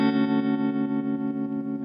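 An electric guitar played through a Fender '65 Deluxe Reverb reissue amp with reverb and tremolo on, one sustained chord shimmering and pulsing steadily as it rings out.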